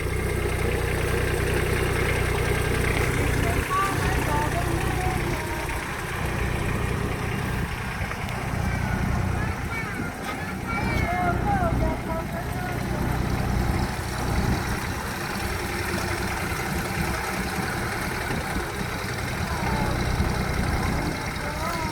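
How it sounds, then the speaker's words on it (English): A tractor engine runs at a steady medium-pitched idle throughout, loud and close, with slight rises and falls while the tractor is being parked; voices are heard now and then over the engine. "Parking the tractor."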